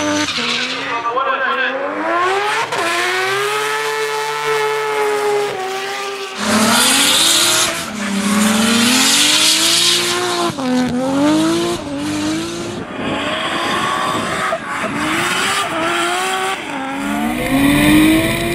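A three-rotor Red Bull Mazda RX-8 drift car at a D1NZ round at Hampton Downs screams loudly through rising and falling revs with tire squeal, while a commentator talks over it.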